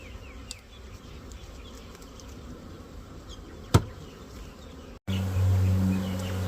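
A soft, steady buzzing of many honeybees hums in the background as a caught swarm is shaken into a hive entrance, with a sharp knock partway through, then a louder, deeper drone takes over.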